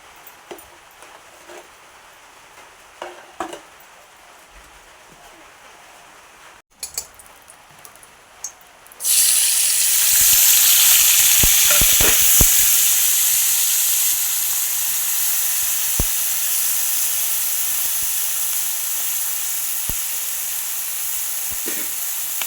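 Prawns hit hot oil in a wok and set off a loud, steady sizzle that keeps going for over ten seconds, after a few soft clinks and rustles.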